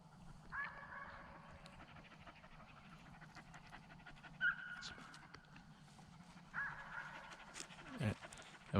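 A Labrador puppy pants steadily while being walked on a leash across a hayfield, the quick breaths running through the whole stretch with a few faint rustles, a brief whimper-like note and a closing bump.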